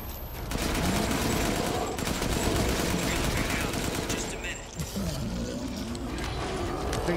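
Dense, continuous gunfire from a firefight against an enemy in Resident Evil Village, rapid overlapping shots that stay loud and sustained throughout, with occasional mechanical clicks and a voice faintly in the mix.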